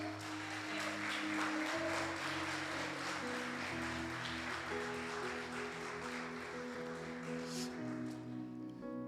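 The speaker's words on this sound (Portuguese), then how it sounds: "Aplauda o Senhor." A church congregation applauds steadily during a service for about nine seconds, a dense wash of clapping under sustained keyboard or organ chords that keep playing throughout.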